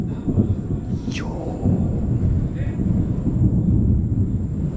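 Thunder from a lightning storm in Cuba rumbles as a low, continuous roar with wind noise on the microphone, loud and sustained across the clip.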